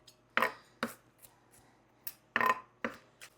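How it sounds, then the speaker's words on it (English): A knife rough-chopping peeled garlic cloves on a cutting board, five or six sharp separate thuds in an uneven rhythm, close and clear with quiet gaps between strokes and no talking. "We're just going to kind of chop it"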